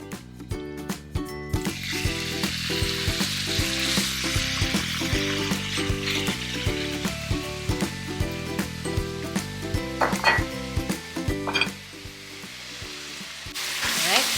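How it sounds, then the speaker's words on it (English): Beef sizzles in hot oil in a pan for Korean bibimbap, a steady loud frying hiss running throughout beneath a strong rhythmic music track, with no talking. "Okay, the oil is ready. I'm just gonna get a thong and I'm gonna add the beef."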